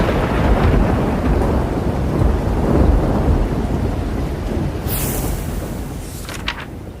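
Heavy rain pours steadily while deep thunder rolls and rumbles through a storm, loud and close, with a sharp crackling strike near the end before the downpour continues.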